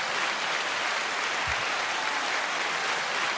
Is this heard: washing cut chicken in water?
no